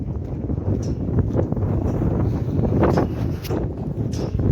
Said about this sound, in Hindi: कितना तेज हवा